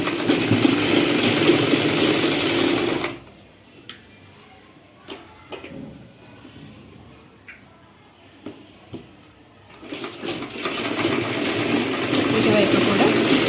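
Sewing machine stitching a silk petticoat cut from a saree: a loud, busy whirring run, a quieter stretch of scattered ticks and clicks, then the machine running steadily again.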